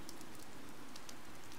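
Steady rain falling in Fire Emblem Three Houses, a dense, even patter of drops on surfaces with a soft hiss, continuous and fairly close, no voices.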